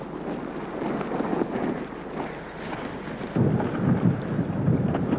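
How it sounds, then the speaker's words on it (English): Heavy, wind-driven rain lashes the coast at Kill Devil Hills during a storm. A dense, roaring wash of rain and wind buffets the microphone and rises louder partway through, with no talk. "a place where the rain was horizontal today and where the streets were rapidly turned into rivers"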